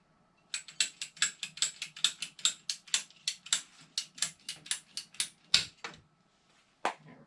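A pipe piece is cut for a water softener install, with about twenty quick, sharp ratcheting clicks heard close up in a steady rhythm, then a pause and one last click. No one speaks.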